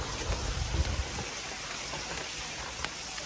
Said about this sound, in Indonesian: Ya Allah, hujan.